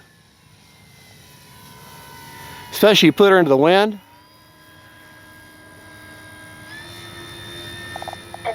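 An electric 3X Flex RV8 60E RC airplane flies slowly into the wind, its motor giving a steady, moderately distant whine throughout, with someone speaking briefly over it.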